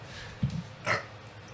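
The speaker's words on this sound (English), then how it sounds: "that was a nasty ass burp" A man lets out a short, low burp in a casual podcast setting, faint and close, followed by a brief throaty rasp over a quiet background.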